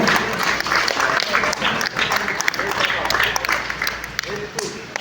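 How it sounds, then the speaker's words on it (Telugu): An audience claps through a retirement ceremony at a bus depot, a dense, continuous patter of applause at moderate loudness with voices talking over it throughout. "చప్పట్లు కొట్టాలండి"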